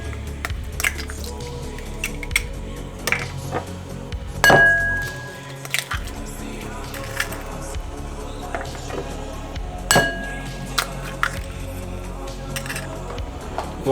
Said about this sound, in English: So you want to crack 3 eggs into this bowl.